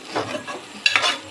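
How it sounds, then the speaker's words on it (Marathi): Masala roasting in hot oil for a fish curry, stirred briefly, a short close sizzle with a couple of quick scraping strokes. "मसाला चांगला भाजून घेतला."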